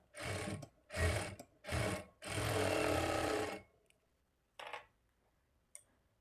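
A sewing machine stitches blouse lining cloth in three short bursts and then a longer steady run, followed by near silence with a few faint clicks.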